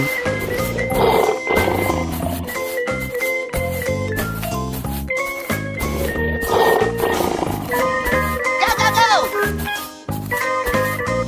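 A cartoon lion in a 3D wild-animal animation roars several times over loud, continuous background music, the roars swelling and fading within the busy mix.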